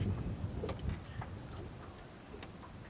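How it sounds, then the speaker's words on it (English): Gusty outdoor wind buffets a microphone while fishing, a low rumbling roar that swells and eases unevenly under faint clicks and handling sounds, with no talk. "There's a lot of gust today."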